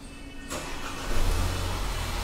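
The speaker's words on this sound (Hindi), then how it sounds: "ये गाड़ी हमने स्टार्ट किया है।" A Mercedes CLA 200 with a misfire fault starting up: a brief crank and catch at about half a second, then a low, slightly uneven idle rumble that swells and settles, close by.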